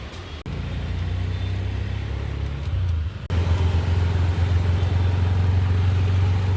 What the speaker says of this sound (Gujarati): અમે રિક્ષામાં બેઠા છીએ ને હવે રિક્ષામાં જઈએ છીએ ઘરે